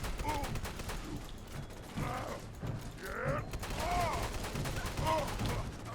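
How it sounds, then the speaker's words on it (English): Shotgun blasts and clattering pump-action mechanisms sound in the video game Fallout 4, with several sharp shots and metallic creaks amid game effects and some voices. "I love this shotgun."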